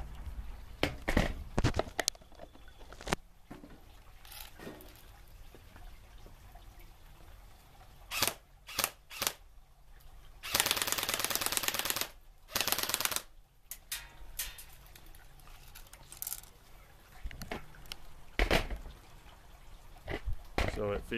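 An airsoft M4 loaded with a Bulldog high-capacity magazine fires close up. Scattered sharp mechanical clicks lead into two sustained full-auto bursts of rapid rattling shots, followed by more isolated snaps.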